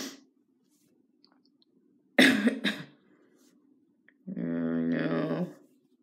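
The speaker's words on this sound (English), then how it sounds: "You're still coughing." Two quick, harsh coughs break a quiet room, then a longer, strained, wheezy hacking sound follows a moment later.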